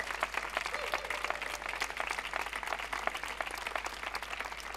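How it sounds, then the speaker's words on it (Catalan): Concert audience applauds the composer during a band performance event, a steady wash of clapping heard from a distance and fairly faint, with a low hum underneath. "un aplaudiment pel senyor Bonilla."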